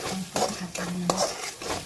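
Masala paste for chicken curry sizzling and frying in a pan while a spoon stirs and scrapes through it, with a few close clinks of utensil on metal over steady frying noise.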